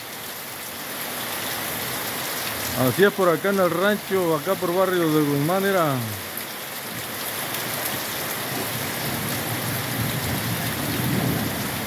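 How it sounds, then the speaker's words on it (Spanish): Heavy rain pours steadily with thunder on a ranch in Barrio de Guzmán, El Limón. Someone speaks briefly partway through over the constant downpour. "Aquí les estoy enseñando pura lluvia"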